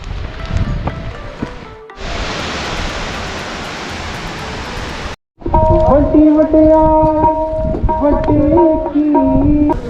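A waterfall beside the stair path on the Hemkund Sahib trek gives a steady, loud rushing roar for about three seconds before cutting off abruptly, with other busier sounds before and after it.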